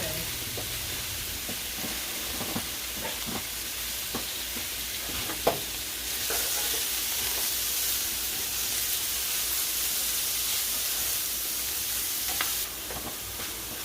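Vegetables for shakshuka sizzling in a pan while being stirred, a steady close frying hiss with occasional scraping knocks from the utensil, getting louder partway through.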